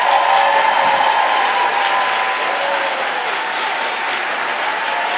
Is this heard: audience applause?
yes